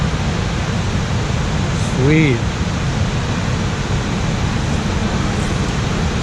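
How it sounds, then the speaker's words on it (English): A waterfall near the abandoned Tioronda School gives a steady, full rushing roar throughout, with a single brief spoken word partway through. "I think I hear the waterfall."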